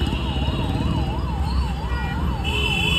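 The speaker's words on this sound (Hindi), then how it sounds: "ये देखो वो एम्बुलेंस अटक रही है यहाँ पे" An ambulance stuck in a heavy traffic jam in Indore sounds its siren close by, a loud, regular rising-and-falling wail repeating steadily over the rumble of idling traffic.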